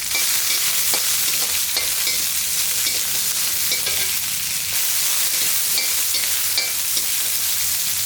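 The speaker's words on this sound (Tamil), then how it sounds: "போட்டு எல்லாம் நல்லா வதக்கிக்கலாம்." Shallots and curry leaves sauté in a hot pan, giving a steady, loud sizzle and crackle that runs unbroken with no voices over it.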